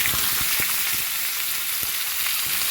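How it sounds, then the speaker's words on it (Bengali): Boiled young jackfruit pieces frying in hot oil in a pan, giving a steady close sizzle with light stirring clicks throughout. "এঁচোড়টাকে ভেজে নেব।"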